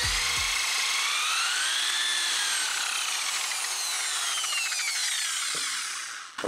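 A Harbor Freight rotary polisher buffs car paint to remove orange peel, a steady whirring grind with wavering pitch that holds loud and close for about six seconds, then cuts off near the end.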